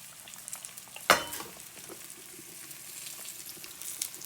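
Steady crackling sizzle of cheese frying in a pan, with one sharp clatter near the start, continuing evenly throughout.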